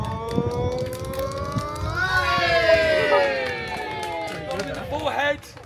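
A crowd cheering at Warwick Castle, a swelling wave of shouting and cheering voices with children among them, rising loudly midway and then fading, with talking nearby.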